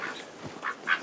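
Ducks on a farm in winter give a few faint, raspy quacks in quick succession, somewhat distant, with no talking heard.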